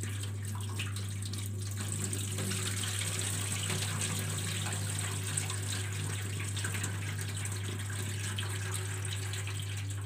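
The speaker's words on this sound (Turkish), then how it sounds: "Şimdi suyunu süzüyorum." Water pours and trickles steadily as sweetened olives are drained of their soaking liquid, a continuous moderately loud wash with a constant low hum running underneath throughout.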